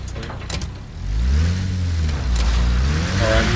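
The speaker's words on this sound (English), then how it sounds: "Can't hear you over the car engine." A car engine in the video game Arma Reforger rumbles and revs up, a loud, low, steady drone that rises in pitch and holds close by, with no speech over it.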